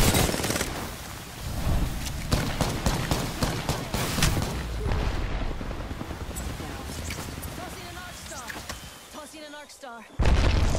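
Gunfire aimed at the player in the video game Call of Duty: dense, rapid volleys of shots and booming impacts, loud and close, with voices talking over the firing.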